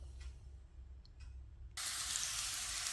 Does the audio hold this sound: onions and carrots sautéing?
yes